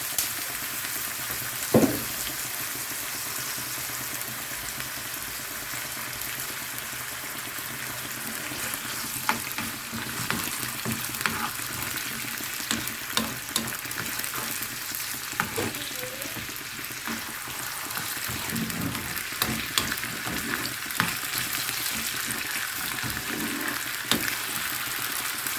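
Ghee and oil frying in a pan for a yellow lentil dish, a steady, low sizzle with occasional stirring clicks and scrapes, fairly close and unbroken throughout.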